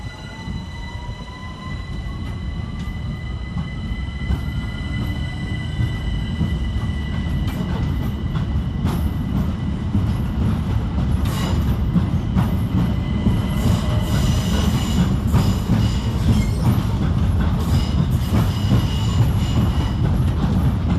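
A Southeastern Class 376 electric train arriving to terminate at London Charing Cross, with a continuous loud rumble of wheels on rails, faint squealing and rhythmic clicks as it rolls in close by.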